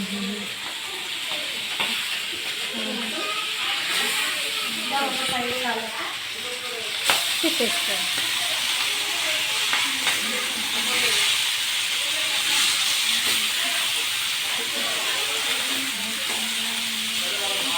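Masala-coated fish fries in oil in a pan with a steady, dense hiss and sizzle that never lets up, close by, while a voice talks over it for much of the time.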